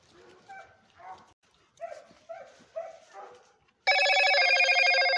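Dog barking during a coati hunt outdoors, a series of short barks and yips spaced across a few seconds, followed by a loud continuous tonal ringing sound, with no speech.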